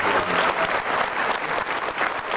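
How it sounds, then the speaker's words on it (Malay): An audience at a 1995 Malaysian stage show breaks into thunderous, sustained applause for a guest, a dense wash of clapping filling the room with little else heard. "tepukan gemuruh untuk Datuk SM Salim"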